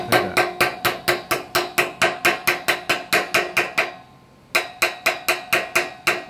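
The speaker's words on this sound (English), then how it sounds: "preferably you could use one of these type of hammers or anything really, just to hammer these little corners in" A hammer knocks in the small corners of steel shutters during installation, giving a fast, even series of sharp metallic taps, close and loud, a brief pause, then another quick run of strikes.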